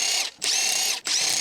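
Electric impact wrench with a large 19mm long socket removing lug nuts from a Honda CR-V; two loud sustained buzzing runs separated by brief pauses, close and alone.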